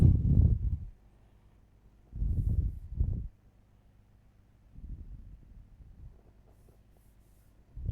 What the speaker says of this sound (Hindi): मैं लिख रहा हूँ आपका तद्भव